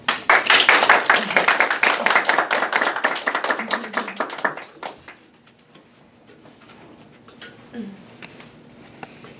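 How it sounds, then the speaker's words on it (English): An audience at a junior musical theater summer camp performance claps loudly and densely for a few seconds, then the applause thins out into scattered claps and quiet. "Clap if you believe in fairies"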